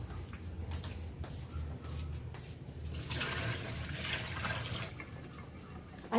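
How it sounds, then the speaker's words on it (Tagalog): Water is poured out of a full container, splashing and gurgling steadily for several seconds at close range, with a louder rushing surge in the middle and low background rumble. "Itapon muna natin itong tubig."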